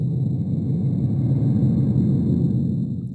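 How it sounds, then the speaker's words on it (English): A deep, steady rocket landing roar rumbles continuously at high volume, a dense low-frequency thunder with no voices, fading slightly at the very end. "That's a rocket landing."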